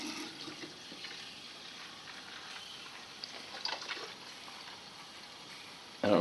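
Warm water pours softly and steadily into a carpet cleaner's tank, a quiet continuous trickle with a brief louder splash near the end.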